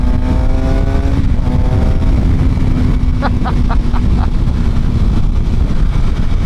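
A Suzuki GSXR 750 sport motorcycle runs close and loud, its engine a steady droning roar that holds throughout under heavy wind buffeting while riding.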